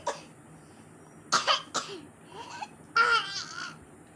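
A small child gives a few short bursts of coughing mixed with babbling, breathy laughter-like sounds and vocal noises in a quiet indoor room.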